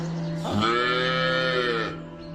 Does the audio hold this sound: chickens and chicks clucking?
no